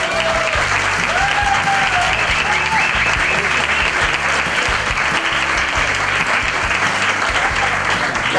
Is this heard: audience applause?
yes